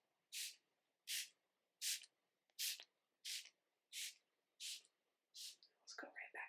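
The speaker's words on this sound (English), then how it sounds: "I'm just going to spray it all around you" A spray bottle fires eight quick, evenly spaced hissing bursts around a seated person in a quiet room during a soft-spoken smoke-cleanse session, close and crisp, with a light rustle at the end.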